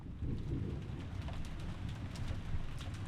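Steady rain with low rumbling thunder from the horror mystery game Umineko When They Cry, set at a vast mansion; a dense, continuous wash of rainfall with a deep rolling undertone, no voices.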